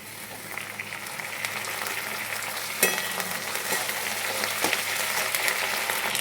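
Onions and ginger paste fry in mutton fat for chickpea ghugni, a steady moderate sizzle with a few sharp spatula knocks against the pan and no speech.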